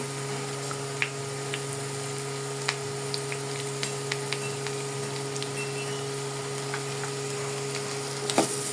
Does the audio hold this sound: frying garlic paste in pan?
yes